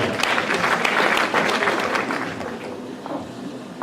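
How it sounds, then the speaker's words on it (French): An audience at an equestrian demonstration breaks into applause, strong at first and then gradually thinning and fading over a few seconds. "On peut l'applaudir bien fort."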